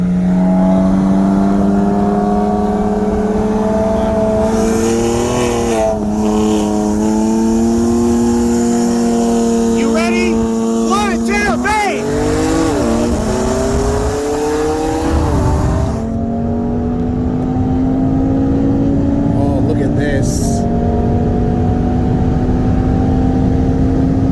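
A 2016 BMW M4 and a 2018 Audi RS3, both with bolt-ons on E85, accelerate hard side by side in a roll race, engines droning loud and rising in pitch through gear changes for over twenty seconds.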